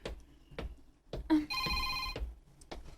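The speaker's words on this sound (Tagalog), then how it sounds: "May nanawag." A cellphone rings with an incoming call, a bright electronic ringtone of sustained tones lasting under a second, heard amid soft thumps and footsteps indoors.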